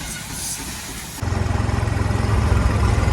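A tractor engine, fitted with new tyres, starts running after a second of quieter rumble, then chugs loudly and steadily at close range with a throbbing low-pitched pulse.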